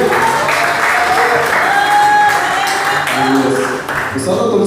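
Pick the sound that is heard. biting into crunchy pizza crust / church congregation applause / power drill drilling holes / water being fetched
church congregation applause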